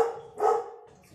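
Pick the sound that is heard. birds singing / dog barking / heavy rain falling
dog barking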